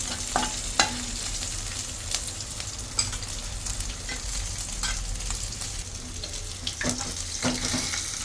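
Soaked dried shrimp being stirred in a hot pan, a steady close sizzle and frying hiss with scraping, clacking utensil strokes against the metal, no voices.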